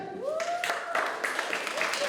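Applause breaks out at the opening of the 2024 Busan intangible heritage art fair, a burst of crowd clapping swelling in after a count, with a voice and whooping tones over it.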